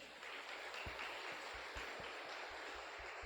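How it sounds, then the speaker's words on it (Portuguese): A church congregation gives a soft, steady round of applause, a faint, diffuse patter of many hands with a few dull low thumps scattered through it. "Uma salva de palmas"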